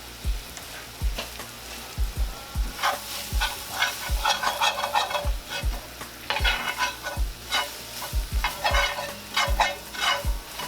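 Flour is stirred and browned in a frying pan, a spoon scraping in steady repeated strokes over a soft continuous sizzle, close and alone.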